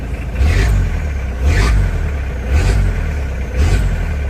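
A close diesel L300 pickup engine runs with a deep rumble, swelling in regular pulses about once a second as if lightly revved.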